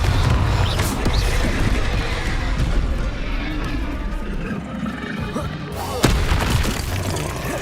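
Hogwarts Legacy Confringo blasting spell: loud booming explosions and crashes in a dense stretch of game combat noise, with a fresh sharp blast near the end.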